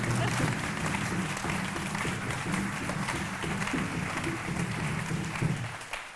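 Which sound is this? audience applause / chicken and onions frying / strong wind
audience applause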